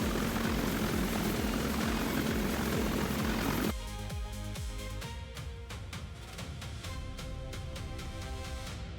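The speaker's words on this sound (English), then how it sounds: "The propellers are spinning already." V-22 Osprey propellers spin in a Roblox game: a dense, loud rotor roar that suddenly drops to a lighter, rhythmic chopping beat with steady pulses, no talking.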